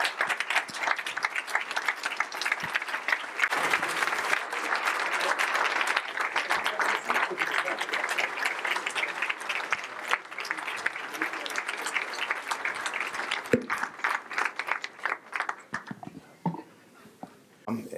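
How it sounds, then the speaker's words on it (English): A luncheon audience gives a final round of applause for guest Grant Hill, sustained clapping that fills the room for most of the stretch before thinning out to scattered claps near the end. "please join me in one last round of applause for our guest"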